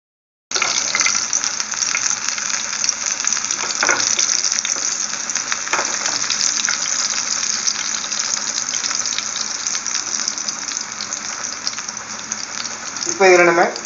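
Green chilies and ginger fry in a little oil, giving a steady, close sizzle that runs unbroken, with a few faint clinks and scrapes and a brief louder clatter at the very end.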